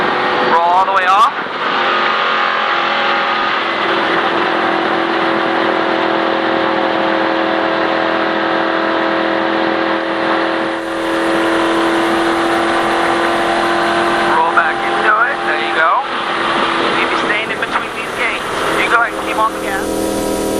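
A NASCAR race car engine drones loud and continuous at full throttle, with a voice talking over it for part of the stretch.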